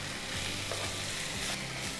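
Chicken frying in oil with ginger and garlic for an Andhra-style chicken curry, a steady broadband sizzle with faint stirring scrapes, heard alone and fairly quiet throughout.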